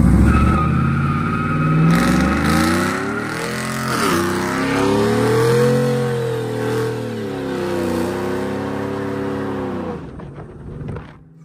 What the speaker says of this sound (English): This might just be our very last burnout in Shorty.